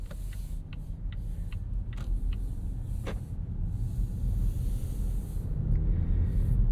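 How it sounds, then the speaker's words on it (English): A 2026 Volvo V60 Cross Country wagon pulls away with a low, steady engine and road rumble that slowly swells, while faint clicks tick over it. "And off we go in the Volvo V60 Cross Country."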